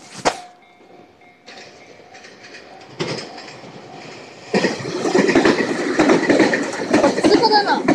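A train rolls through a railway level crossing in Kasukabe, its noise swelling from a faint rumble to a loud, close roar of wheels clattering over the rails, with crossing bells and birds audible early on.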